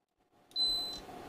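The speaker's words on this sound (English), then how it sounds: "If it beeps twice, normally that's a good capacitor." ESR meter testing a capacitor gives a single short electronic beep, a thin pure tone that cuts in after near silence, over faint handling noise and a quiet low hum.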